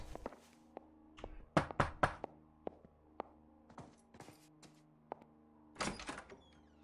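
Knocking on a door in the video game LA Noire: a few sharp, close knocks and thuds mixed with footsteps and door sounds over a low, quiet hum.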